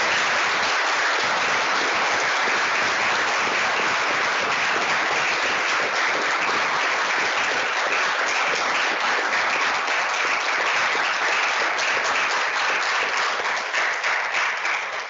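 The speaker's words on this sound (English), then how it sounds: "I hope everyone will join me in giving our panelists a round of applause." An audience at a roundtable discussion on the war in Ukraine gives panelists long, continuous applause, a thick, even roar of many hands clapping for about fifteen seconds without pause.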